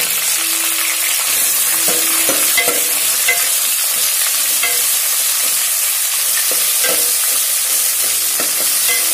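Okra sautéing in a pan with onions and curry leaves, a loud, unbroken sizzle close up, with scattered scrapes and taps of a spoon stirring through it.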